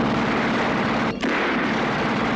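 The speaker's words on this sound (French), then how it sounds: "tous les bruits des coups de feu avaient été remplacés." A continuous dense burst of gunfire from the original Terminator film soundtrack, loud and close, forms a sustained roar with a brief dip near the middle and no voices.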